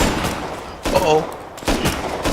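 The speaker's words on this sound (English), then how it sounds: "They're shooting." Gunfire in a first-person shooter game comes as sharp bursts of shots and fusillades, loud and close, in a few clusters over a continuous game background.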